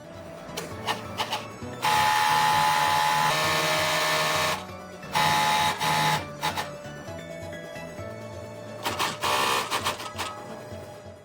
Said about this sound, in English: Airflow sorting separates the materials into down, small feathers, and large feathers or impurities.